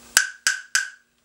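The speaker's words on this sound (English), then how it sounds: "the smaller block makes a higher pitched noise" A small plastic wood block struck three times at an even, moderate pace, each bright, high-pitched clack close and crisp with a short ringing decay, followed by silence.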